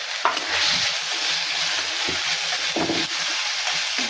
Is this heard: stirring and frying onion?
yes